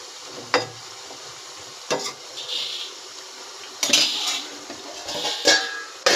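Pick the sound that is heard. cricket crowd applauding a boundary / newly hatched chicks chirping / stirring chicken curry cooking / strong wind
stirring chicken curry cooking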